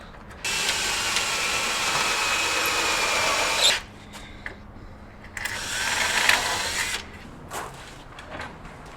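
A power drill drives wood screws into a thrifted bookcase in two whirring bursts, each lasting a few seconds, with quiet handling noise and clicks between them.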